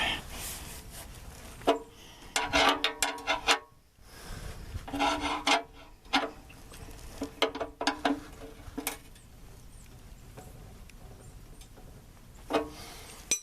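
A wrench works the oil drain plug on a Ford F-150, a close, repeated ratcheting click in quick bursts with pauses and some metallic scraping between them, no talking.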